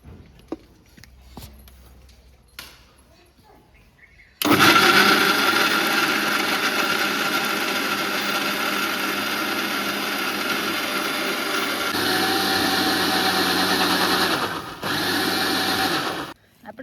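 An electric mixer grinder blends raw mango: a loud, steady motorized whir starts abruptly after a few quiet seconds, runs for about twelve seconds with a slight shift in pitch, then cuts off.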